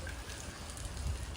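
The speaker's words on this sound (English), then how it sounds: "it started raining here" Rain falling outdoors around a marina in Phuket, Thailand, a soft, steady patter over a low rumble, faint and continuous throughout.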